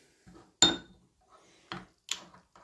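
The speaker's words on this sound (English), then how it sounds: "I'll just give it a little stir." A spoon stirs L'or instant coffee in a cup: a few separate, close clinks and scrapes of metal against the cup, one bright tap followed by softer knocks with silence between.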